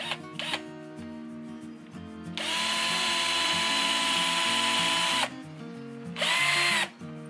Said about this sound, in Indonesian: Kita akan coba mengebor.